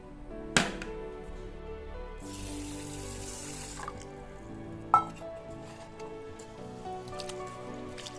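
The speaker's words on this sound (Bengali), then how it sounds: "চাল আর ডালকে একসাথে মিশিয়ে 2-3 বার করে ধুয়ে নেবো।" Rice and lentils being rinsed together in water at a sink, with soft splashing and running-tap sounds throughout and a couple of sharp knocks, no talking.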